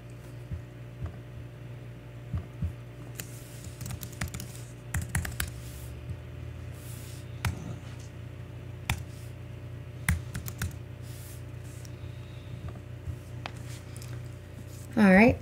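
Password typed on a computer keyboard as a series of light, uneven clicks and taps running throughout, close and moderately quiet over a steady low hum, with a brief louder burst near the end.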